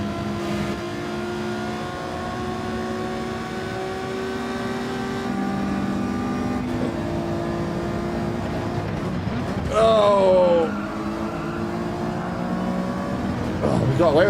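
A small Alfa race car in Gran Turismo 7 holds a steady, loud engine drone with shifting revs throughout, while someone talks over it.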